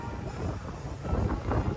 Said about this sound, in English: Oh, it's a windy day.